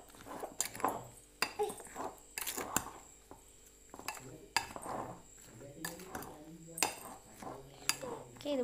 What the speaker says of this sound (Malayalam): ഇതുപോലെ നിങ്ങൾ നന്നായിട്ട് ഇളക്കി കൊടുക്കണം